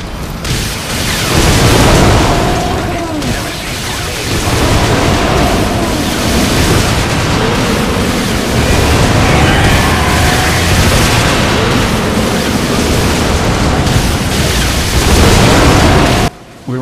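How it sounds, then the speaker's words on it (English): Rocket launcher blasts slam into the giant Sahelanthropus mech in Metal Gear Solid V, a dense, continuous barrage of heavy booms and rumbling bursts that stays loud for the whole stretch and cuts off abruptly at the end. "introduce Sahelanthropus to your rocket launcher"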